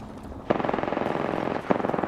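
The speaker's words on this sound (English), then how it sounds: "Listen up, I'm getting shot at" Rapid automatic gunfire in a shooter video game, a dense rattling burst that starts abruptly and keeps going, with a sharp louder shot near the end.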